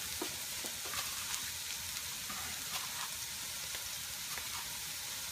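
Chili in a pot sizzles steadily and softly, a continuous crackle with scattered small pops throughout.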